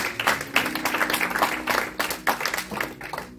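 A church congregation applauding and cheering, a loud burst of clapping with crowd voices rising and falling in waves over a few seconds.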